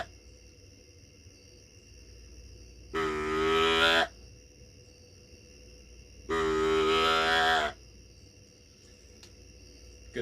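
A mahogany grunt tube deer call on its mature doe setting gives two drawn-out, nasal bleating calls of about a second each, close and clear over a faint steady background hum.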